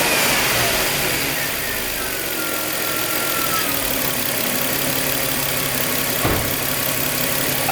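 A car engine runs close by, idling with a rough rumble after being revved twice to about 3,000 RPM, the pitch shifting slightly as it settles; no talking.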